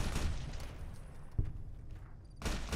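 Gunfire in Fallout: New Vegas inside a bunker: a dense wash of broadband crackle at the start, one sharp thump near the middle, then a fresh loud burst of shots at the end.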